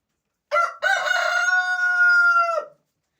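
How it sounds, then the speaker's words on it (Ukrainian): A rooster crows once, close and loud, with a long drawn-out cock-a-doodle-doo after a short stuttering start, at a country-house chicken yard. "Півень співає, йому весело."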